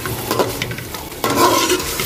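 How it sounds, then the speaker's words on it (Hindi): Masala fries in ghee while being stirred for a bone marrow curry, a steady close sizzle with scraping stir sounds that grows louder and brighter about halfway through. "हम इसके घी के अंदर इसी मसाले को हम भून लेंगे।"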